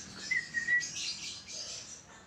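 Thin, high chirps and short whistled tweets from baby birds, intermittent and fairly close, over a quiet background.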